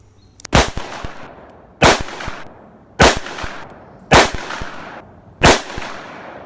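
Five loud, evenly spaced shots from a Ruger .357 Magnum revolver loaded with SIG V-Crown ammunition, each a sharp crack with a short decaying tail, roughly one per second, close and with no talking.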